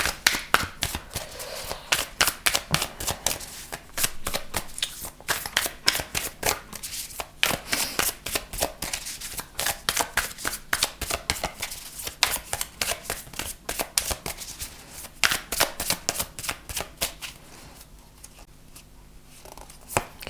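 Tarot cards being shuffled by hand, a long run of rapid papery riffles and slaps in bursts, close and crisp, thinning out toward the end.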